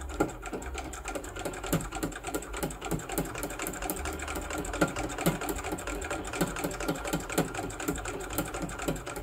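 A vintage Singer 66K sewing machine stitches steadily, its needle hammering out a fast, even rhythm of close mechanical clatter that runs without pause.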